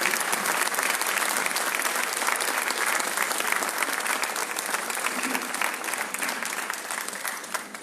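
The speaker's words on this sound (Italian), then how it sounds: "I think they deserve another round of applause." Sustained applause from a large concert audience for an orchestra's musicians, steady and dense clapping filling the whole stretch without pause.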